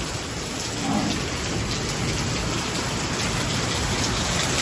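Heavy rain falls during a storm in Punjab at wheat harvest time, making a loud, steady, dense hiss close by with a faint low rumble underneath.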